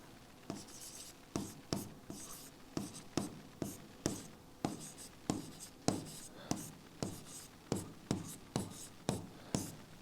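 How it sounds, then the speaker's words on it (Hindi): Chalk or marker writing on a classroom board in a science lesson, a brisk run of sharp, rhythmic scratching strokes about every half second, close and clear, with no talking. "यहां पे एक पॉइंट और लिखेंगे कि काला कोई रंग नहीं होता"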